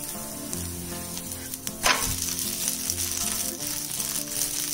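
A sabudana masala rotti sizzles steadily on a hot pan after being flipped, a soft continuous frying crackle with a brief clatter near the middle.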